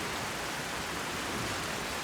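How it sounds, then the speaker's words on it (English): Steady rain falls in the Skyrim video game, a dense even hiss filling the whole stretch with no voices and no breaks. "Get out of this sodding rain"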